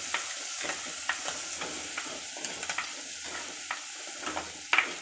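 Curry leaves sputter in hot oil in a pan with eggs and turmeric for a tamarind-leaf egg fry, giving a steady faint sizzle broken by a string of small sharp pops and crackles, one louder burst near the end.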